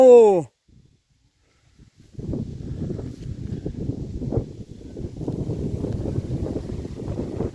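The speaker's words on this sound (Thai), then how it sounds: "ลมก็แรงวันนี้ลมแรง ลมแรงอีกวันนะครับ" Strong wind blusters over an open watermelon field, a steady rushing roar buffeting the microphone after a brief voice and a moment of near silence.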